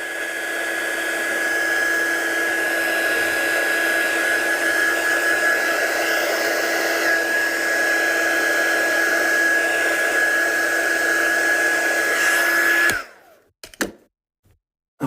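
A heat tool blows steadily and loudly up close for about thirteen seconds, drying the back of an ink craft piece, a constant whooshing whine that cuts off abruptly, followed by a few faint knocks.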